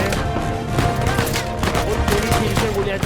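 Dense gunfire in the video game Uncharted 4, rapid overlapping bursts and rattling automatic shots filling the field, loud and continuous with some mixed-in voices.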